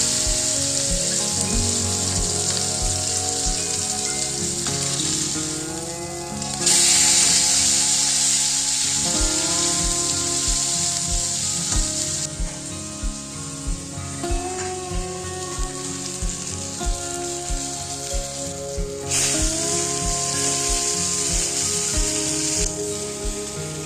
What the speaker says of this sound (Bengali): কড়াইয়ে তেল গরম করে মিডিয়াম আঁচে মাছগুলোকে ফ্রাই করে নিলাম